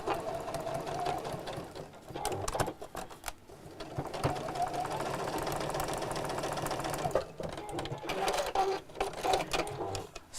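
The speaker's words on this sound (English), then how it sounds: "let's sew that down" A sewing machine stitches cord down along the fabric-wrapped edge of a chair cushion. It runs in long, fast mechanical bursts with brief pauses between runs and gentle handling noises.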